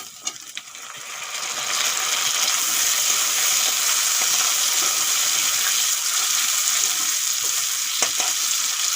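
Ginger and green chilli paste, then chopped tomato, frying in fish oil in a Bengali-style aubergine and potato dish. After a quiet first second, a loud, steady hiss of sizzling oil runs throughout, with occasional clinks of a utensil.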